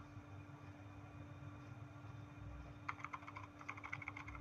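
Soft, quick keystrokes on a laptop keyboard during a Debian server setup tutorial, starting partway through as a faint clicking burst over a steady low hum.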